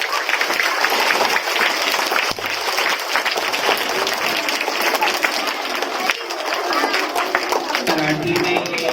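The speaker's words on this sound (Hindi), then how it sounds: "तालियां बजाओ इनके लिए।" Audience applause at an Azadi Ka Amrit Mahotsav event, a loud, continuous burst of many people clapping with crowd murmur mixed in, fading as a tone and voices come in near the end.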